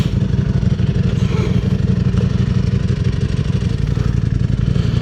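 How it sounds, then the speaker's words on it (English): A Ducati motorcycle engine rumbles steadily nearby with a throbbing, low-pitched beat and some clatter, sustained throughout without talk. "Nice Ducati there."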